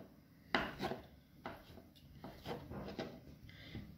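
Knife cutting cooked squash into long pieces on a kitchen board: several distinct chopping thuds and scrapes at uneven intervals, close and moderately loud, with no talking.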